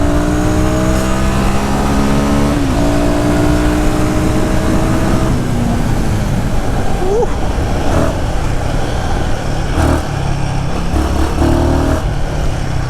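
A Royal Enfield Guerrilla 450 motorcycle with ride-by-wire throttle accelerates through rising gear pulls on a misty morning road, the engine note climbing and shifting close by under steady wind noise.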